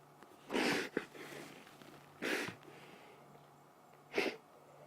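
A lion gives three loud, breathy snorting sneezes spaced a second or two apart, nearby against a quiet outdoor background at sunset in the Sabi Sand reserve, South Africa.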